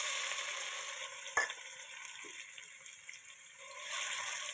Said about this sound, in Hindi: इसमें 1 से हाफ प्याली इसमें ऑयल डाल के इसको गर्म कर दें। इसके अंदर चॉप किए हुए प्याज शामिल कर दें